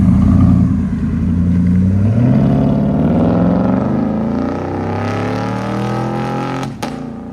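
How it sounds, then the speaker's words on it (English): A 2018 Chevy Silverado Z71 with a 5.3L V8, true dual exhaust, Flowmaster Flow FX mufflers, high-flow cats and 2.5-inch pipes revs close up with a deep, rumbling roar that climbs and eases, ending in a brief click. "Silverado True Duals with Flow FX, high flow Flowmaster cats"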